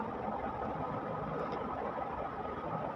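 A sewing machine stitches a small child's suit, giving a steady, even mechanical whir close by, with no talk over it.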